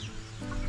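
A chicken clucks softly at a distance in a short outdoor moment, with low ambient noise and no speech.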